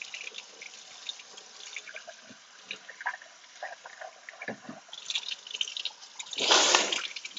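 Hot tap water pours into a sink as hands splash and move through it, a steady close trickle with a louder surge of splashing near the end.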